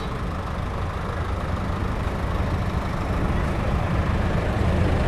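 A 1980 Ford 5600 tractor rolls along in a parade, its engine giving a steady, moderately loud diesel rumble with broadband road noise and no clear speech.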